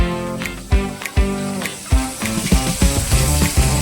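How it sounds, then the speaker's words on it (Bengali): Onions, tomato and bay leaf sizzling in a hot pan, a steady loud frying hiss broken by sharp crackles and bursts as pieces hit the oil and get stirred. "একটু পেঁয়াজগুলো দেবো এতে, তারপরে টমেটো, একটু তেজপাতা, এই সমস্ত একটু ফোড়ন দেব"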